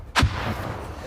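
A grenade detonates in the video game Stalker 2: Heart of Chornobyl, one loud, close, booming blast followed by a rumbling tail that lingers for the rest of the moment.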